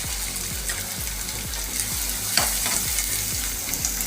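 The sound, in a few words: chopped onions frying in hot oil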